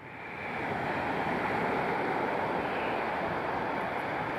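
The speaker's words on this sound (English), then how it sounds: "Love the sounds of the seaside." Seaside waves wash onto the shore at Maryport in a loud, steady rush of surf and wind, building up in the first half-second, with no talking.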